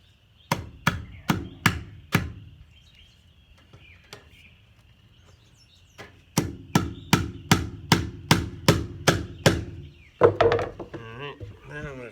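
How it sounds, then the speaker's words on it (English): A staple gun fires sharp, close snaps while fastening chinking material, a few spaced shots and then a quick run of about ten in an even rhythm, followed by brief talk. "So I'm stapling it close to the end, maybe half an inch back."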